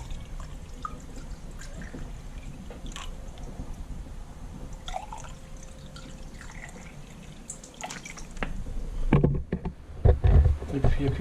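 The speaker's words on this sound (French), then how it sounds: "Donc on va remplir les conduits d'eau." Water poured into the coolant passages of a three-cylinder EB engine during a cylinder head overhaul: a steady trickle and gurgle that swells into louder splashing near the end, with someone speaking French over it.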